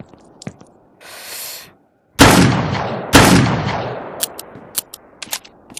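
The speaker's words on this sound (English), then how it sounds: "Then 3 shots for that leg." Three loud video game gunshots ring out in quick succession, each with a long decaying echo, followed by softer clicks and clatter, with no voices.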